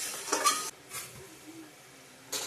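Chicken curry stirred and sautéed in a pan for a Bengali New Year lunch: soft scraping stirs with a low sizzle, in a few separate bursts across a short span, fairly close and otherwise quiet.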